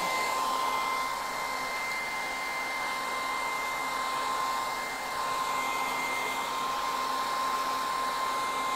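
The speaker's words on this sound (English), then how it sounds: "I will just hit the hairdryer on it for a brief couple of seconds" A hair dryer blows steadily at close range with a constant whine and airy rush for several seconds, with no talking.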